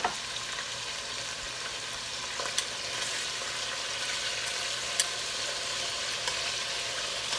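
Beef sizzles steadily in a hot pan while searing for an old-school stew, a close, continuous frying hiss with a few faint clicks and no talking.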